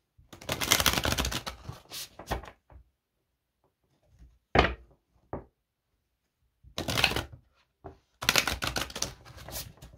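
Tarot cards being shuffled come in several bursts of riffling and flicking, loud close-up clusters separated by quiet pauses with a few isolated taps between them.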